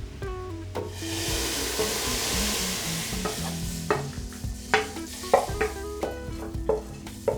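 Lentil curry with garlic butter being stirred in a pan, a steady frying sizzle under scraping spoon strokes that grow louder and sharper toward the end, no voices.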